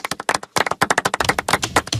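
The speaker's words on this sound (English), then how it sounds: "That's the same applause Koepke gets" Scattered, close-up clapping from a golf gallery at the PGA Championship, coming in quick irregular bursts for a couple of seconds with no voices over it.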